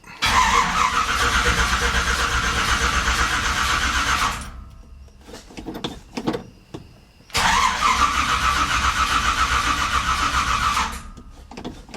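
A 1971 Chevrolet C10 pickup with a Quadrajet carburetor and no fuel in the bowl cranks steadily and loudly for about four seconds, stops amid a few clicks and rattles, then cranks again in a second long burst without catching, outdoors at dusk.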